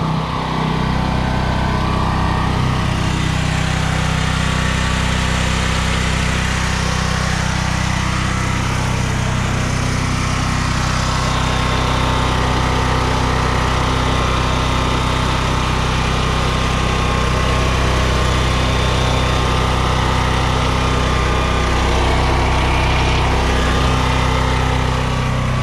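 A gasoline emergency power station generator engine runs steadily and loudly at close range, a constant droning hum with no pauses for the whole stretch.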